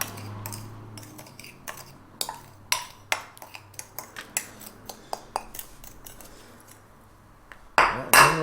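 A utensil clinks and taps repeatedly against a bowl while blackened seasoning is stirred, making a quick, fairly quiet run of sharp ticks, with a louder clatter at the end.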